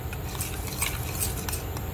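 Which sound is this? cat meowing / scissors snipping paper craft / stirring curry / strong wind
stirring curry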